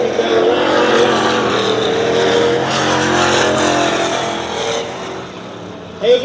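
Dirt track race cars at Dirtona Raceway roar loudly in a steady, continuous engine drone with no break, as a pack circles the track close by.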